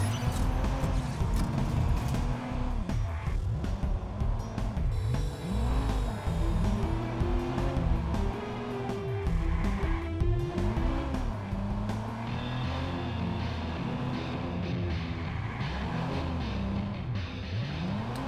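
A car in the Watch Dogs video game accelerates hard, engine pitch rising and falling through repeated revving sweeps with gear shifts, loud and continuous throughout.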